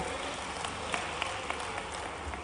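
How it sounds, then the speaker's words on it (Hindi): Scattered audience applause welcoming a senior guest at a public gathering, a fairly faint wash of claps with a few sharper individual claps standing out. "क्या तालियां बजा के स्वागत करें भाई।"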